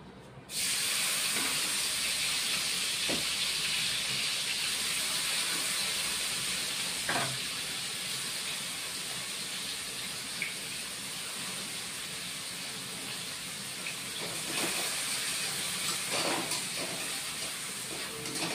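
Onions fry in hot oil for tempering, giving a steady, loud sizzling hiss that starts abruptly and holds throughout, with a few faint clicks and stirring taps.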